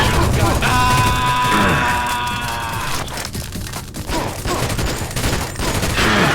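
Rapid gunfire from a first-person shooter mod of Deus Ex, The Nameless Mod: dense bursts of automatic and single shots crackle throughout, close and loud, with no clear gaps and faint voice or music traces underneath.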